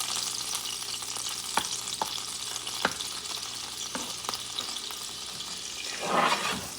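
Bison fat melting in a hot pan, a constant close crackling sizzle with scattered pops and a swelling hiss near the end.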